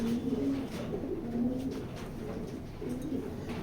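A male racing pigeon coos repeatedly in low, rolling phrases, close by, over a soft background hiss.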